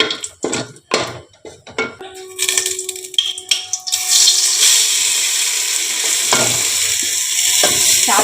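Whole cinnamon sticks and green cardamom pods sizzling loudly in hot oil for Basanti pulao, a steady close frying hiss that swells and holds after a few brief stirring clatters at the start.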